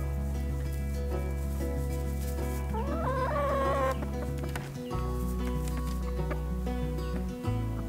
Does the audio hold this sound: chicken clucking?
yes